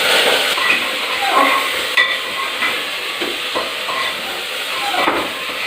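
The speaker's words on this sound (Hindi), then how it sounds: "चीनू लगे हुए कड़छी चलाने अभी तक" A ladle stirs mutton curry in a cooking pot, giving soft scraping and clinking strokes over a steady hiss and sizzle from the pan.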